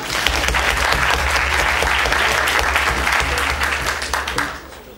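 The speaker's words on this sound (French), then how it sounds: "qui mérite des applaudissements pour Léa." A crowd applauds loudly and steadily for several seconds at a courtroom pleading contest, dense clapping that tapers off at the end.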